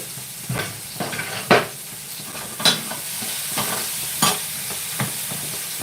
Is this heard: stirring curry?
yes